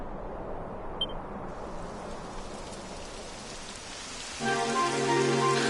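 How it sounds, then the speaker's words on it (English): Video game rain patters and hisses across surfaces, then a louder, denser layer of rainfall swells in near the end, with no voices. "It would have to go and start raining, wouldn't it?"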